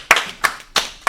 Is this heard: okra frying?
no